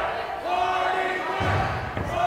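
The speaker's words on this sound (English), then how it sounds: "And now the crowd chanting for Party Mike, Zachary Don" A wrestling crowd chants for Party Mike as an arena-wide roar of many voices holds steady throughout, with a couple of dull thuds partway through.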